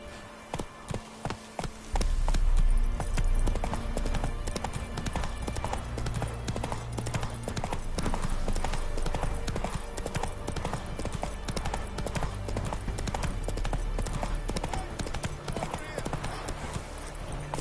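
Roach, a horse in The Witcher video game, trots with crisp, rhythmic clip-clopping hooves that carry on steadily, close and clear over a busy in-game soundscape. A few separate hoofbeats open the stretch, and brief talk is heard.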